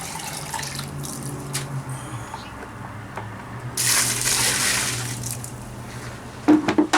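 Muddy water full of dirt and rocks drains out in a steady, rushing trickle that swells into a louder gush midway, then eases, ending with a few sharp splashes close by.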